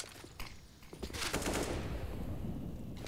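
Rapid gunfire in Counter-Strike: Global Offensive during an IEM Katowice 2022 esports match, a quick string of pistol shots followed by a dense sustained burst of shooting and game noise, loud and continuous.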